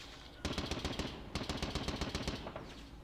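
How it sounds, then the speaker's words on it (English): Machine guns trade fire in a World War I battle game set in East Prussia in 1914, with rapid bursts of close, loud automatic shots in two long volleys that trail off into scattered rounds. "These machine guns are shooting at each other."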